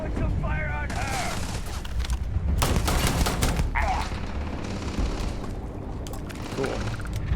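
Gunfire in the video game Starfield crackles in rapid bursts and booms, with weapon fire layered densely throughout the fight.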